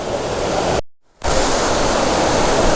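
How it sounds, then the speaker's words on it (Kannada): Sirimane Falls near Sringeri pours in a loud, close, broadband rush of falling water, steady and unbroken apart from a brief sudden dropout before the roar resumes. "ಸೊ ಹಿಂಗಿದೆ ಸಿರಿಮನೆ ಫಾಲ್ಸು"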